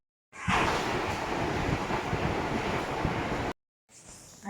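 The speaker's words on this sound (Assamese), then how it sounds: "বতাহো দিছে, বৰষুণো দিছে" Strong wind and rain of a storm roar steadily and loudly for about three seconds, with no voices, then cut out abruptly before a fainter burst of rain and wind returns.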